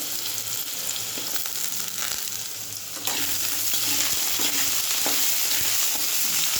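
Potatoes frying in oil in a pan: a steady, close sizzle with bright hiss, occasional stirring scrapes and taps, and the sizzling grows slightly louder partway through.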